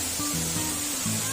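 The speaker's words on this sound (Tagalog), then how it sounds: "Dito na sa falls." Tamaraw Falls in Puerto Galera, Oriental Mindoro pours in a steady, broad wash of rushing water, close and constant, with a low tonal hum running underneath.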